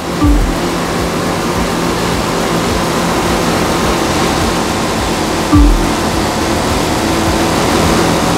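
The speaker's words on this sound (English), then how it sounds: "you'll occasionally have to deal with 10-foot waves on offshore races" Rough open water in an offshore powerboat race in The Crew 2, a steady broadband wash of waves and spray with low engine rumble underneath and two heavier thumping splashes as the hull slams down.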